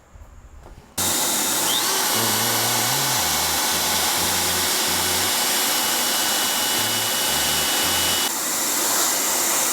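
After a brief quieter start, a router cuts into an electric guitar neck with a loud, sustained, high whine that holds steady for several seconds, and its pitch wobbles slightly.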